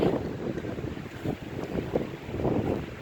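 Night wind at a cemetery buffets the microphone in a continuous rushing roar that swells and eases in gusts, with no voices.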